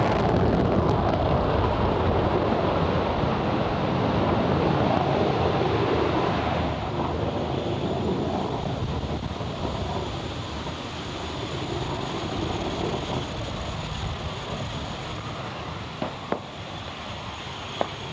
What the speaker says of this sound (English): Falcon 9 has successfully lifted off from Space Launch Complex 4E at Vandenberg Space Force Base in California